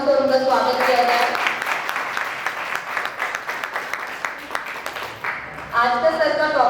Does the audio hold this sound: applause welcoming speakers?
yes